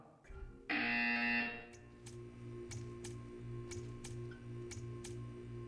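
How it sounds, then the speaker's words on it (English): A loud, harsh electronic buzzer in the video game Portal 2 blares for about a second, followed by a steady ticking pulse and faint repeated clicks. "You will hear a buzzer."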